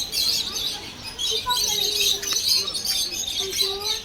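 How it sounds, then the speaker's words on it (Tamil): African lovebirds in a zoo enclosure, a busy chorus of high, sharp chirps and squeaks repeating nonstop over a soft background. "லவ் பேர்ட்ஸ் இல்லை போல, இல்லை ஆஃப்ரிக்கன் லவ் பேர்ட்ஸ் தான்."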